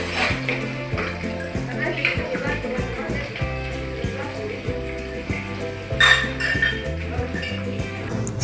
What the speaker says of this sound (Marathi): स्टीलचे ॲल्युमिनियमचे सगळे डबे झाल्यानंतर हे छोटे छोटे भांडे मी सगळे घासून घेतले